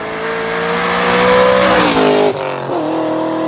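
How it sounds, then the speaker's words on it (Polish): A V8 car engine roars loud and close with a sustained, rising rev, then drops sharply in pitch once or twice as the throttle eases, heard alone without voices. "Od agresywnego ryku V8"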